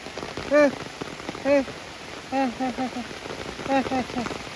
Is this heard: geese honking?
no